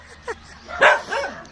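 A dog gives a few short nearby barks and yips, one quick bark followed by a louder pair, over a quiet background.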